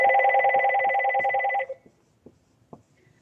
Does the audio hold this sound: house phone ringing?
yes